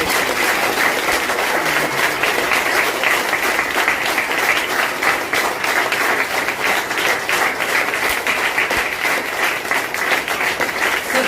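Loud, steady applause from a church congregation at a Palm Sunday service, dense clapping that continues without pause throughout.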